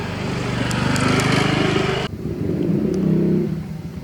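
A motor vehicle passes close by on a road at night, a loud engine roar that drops away sharply partway through and then rises again briefly.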